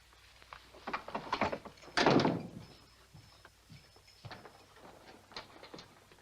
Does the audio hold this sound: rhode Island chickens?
no